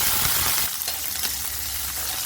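Curry leaves, a dried red chilli and small shallots frying in hot oil for a Tamil tamarind kuzhambu, a steady close crackling sizzle that dips briefly and continues, with no voices.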